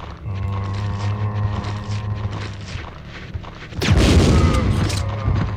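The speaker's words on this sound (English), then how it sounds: "Let's try a grenade launcher." A grenade launcher fires in Resident Evil 2, first a droning in-game ambience, then a sudden heavy blast bursts out near the end and rumbles on loudly.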